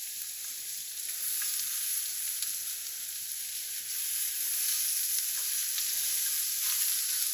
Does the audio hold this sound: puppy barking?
no